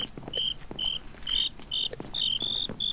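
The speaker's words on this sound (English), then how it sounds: "Shut up, crickets!" Crickets chirping in a Minecraft game world: short, high, shrill chirps repeating at an uneven pace, close and clear, with a few soft clicks between them.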